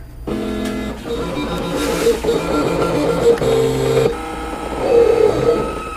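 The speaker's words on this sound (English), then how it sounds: "we'll go ahead and send this over to the cutting machine, and it'll start cutting" A vinyl cutting machine cuts a black motorcycle decal, its stepper motors whirring and buzzing in shifting, pitched tones through a continuous mechanical run, close and fairly loud.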